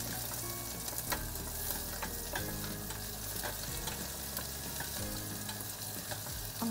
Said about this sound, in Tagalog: Bali gisahin ko muna to guys.